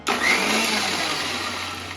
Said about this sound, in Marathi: पुन्हा मिक्सर चालू करायचं